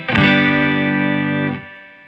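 Electric guitar through a Fender Hot Rod Deville amp with an audio taper volume pot: one loud, gritty chord is struck, rings near and full for over a second, then is cut short.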